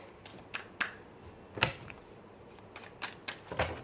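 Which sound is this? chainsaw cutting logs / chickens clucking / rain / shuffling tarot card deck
shuffling tarot card deck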